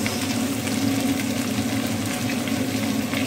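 A heap of onions hits a hot frying pan for Bisaya-style chicken adobo, giving a loud, steady, even sizzle with no talk over it.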